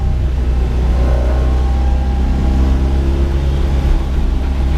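A 1980 Mitsubishi Minica kei car engine drones loud and close from inside the moving car, a continuous buzzing rumble with slight rises in pitch as it revs along.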